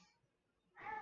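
A single cat meow, close and fairly clear, arriving after a stretch of near silence.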